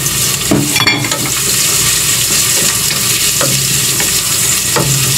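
Garlic and ginger fry in hot oil for lugaw, giving a loud, close, constant sizzle broken by several sharp stirring scrapes and clicks, with no voices.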